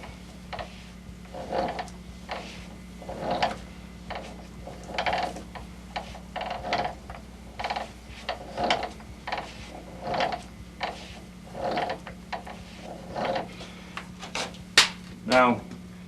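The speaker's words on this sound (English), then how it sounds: "I've got to haul on this lever" A hand lever worked on an old can-seaming machine at a sardine museum, producing a steady series of about a dozen mechanical clunks and ratcheting clicks every second or so over a constant hum.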